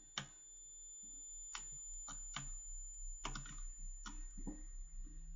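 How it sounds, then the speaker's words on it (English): A computer keyboard typed on in short bursts of sharp, close clicks, with quiet mouse handling between them, set over a faint steady hum. "So I'm just using the keyboard and mouse just to fly around this."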